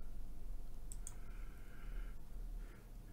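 A computer mouse clicks twice in quick succession, quiet and close, over a low background hum with no speech.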